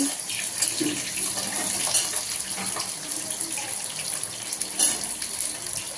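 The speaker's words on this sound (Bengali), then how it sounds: "একে একে দিচ্ছে আলু ফুলকপি কড়ার মধ্যে।" Potatoes and cauliflower fry in a wok with bay leaf, making a steady, close sizzling hiss that carries on throughout with small crackling flare-ups.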